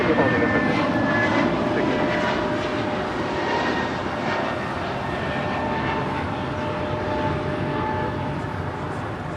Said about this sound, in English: That is Delta Airlines Flight 800 coming in from Fort Lauderdale, Florida, in this A321 Neo